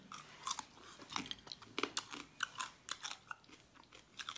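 Raw seafood such as octopus, shrimp or crab is chewed up close: a quiet, irregular series of crisp crunching bites and wet chews with no talking.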